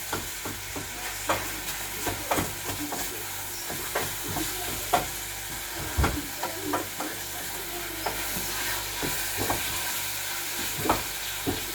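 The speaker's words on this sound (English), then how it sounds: "I'm adding my blended meat to the oil." Blended meat fries in hot oil for a meat pie filling, crackling with a constant sizzle as a utensil stirs and scrapes the pan in regular close knocks; no speech is heard.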